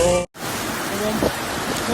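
Heavy rain pours down steadily outdoors as a dense, constant hiss that fills the clip, broken only by a momentary dropout near the start, with faint background voices mixed in.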